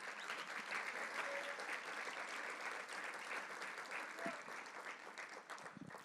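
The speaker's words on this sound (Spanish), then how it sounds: "Dele fuerte el aplauso." Strong, sustained applause from a church congregation during a sermon, a dense wash of many hands clapping steadily throughout with a faint crowd murmur beneath.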